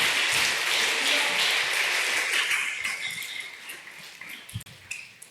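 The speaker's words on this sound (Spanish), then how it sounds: "Dar un aplauso al Señor." Church congregation applauding during a sermon, broad sustained clapping that gradually thins and fades toward the end, with a few isolated claps and knocks as it dies away.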